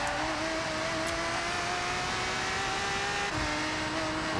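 A Lamborghini Murciélago engine in a racing game howls steadily under throttle while drifting, its pitch climbing slowly and then dipping briefly as it shifts, loud and continuous with no voices.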